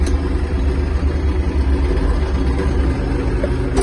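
Yanmar EG-230 Japanese mini tractor running steadily at close range in low gear while turning in place, a continuous even engine drone and rumble with no pauses.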